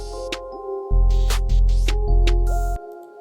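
A future type beat section made in LMMS plays, with sharp claps, open hi-hats and a sustained synth melody over deep bass hits, heard clearly and without voices.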